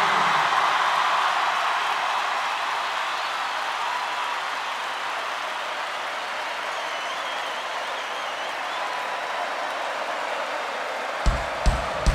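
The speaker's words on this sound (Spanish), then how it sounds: "Un aplauso." Sustained audience applause and crowd noise at a rock concert in La Plata, Argentina, a dense steady wash of clapping from a large crowd that slowly eases, with a few sharp thumps near the end.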